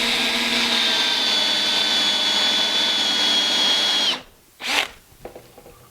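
Drill bit recentring an existing hole freehand: a steady, loud whine for about four seconds, then the motor winds down, with a brief spin-up burst and some handling noise at the end.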